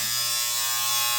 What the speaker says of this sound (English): Let's hear what the trimmer sounds like.